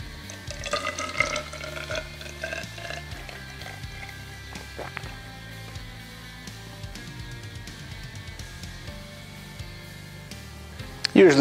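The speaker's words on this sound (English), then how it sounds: "all I'm gonna do is take this melted wax and I'm gonna pour it into" Melted beeswax is poured into a candle mold, a soft liquid pouring and trickling with a few faint drips and clinks, fairly quiet, ending in a brief louder knock.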